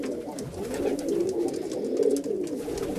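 Tippler pigeons coo softly and steadily inside a loft, a low murmuring flock sound with overlapping calls throughout, fairly near and with no talk.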